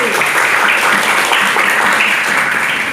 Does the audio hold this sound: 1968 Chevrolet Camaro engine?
no